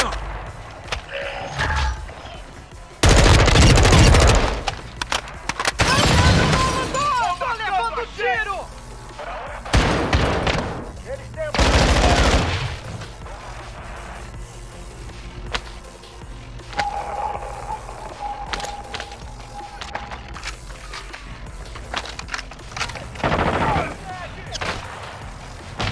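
Call of Duty gunfire comes in several loud bursts and sharp shots spread across the stretch, with game sounds in between and voices talking at times.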